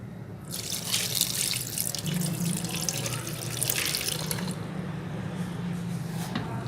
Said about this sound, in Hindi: 1 गिलास पानी ऐड करें